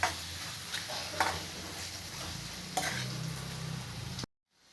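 Egg curry masala fries in a pan while a spoon stirs it, making a close, steady sizzle broken by several sharp scraping strokes, then the sound cuts off.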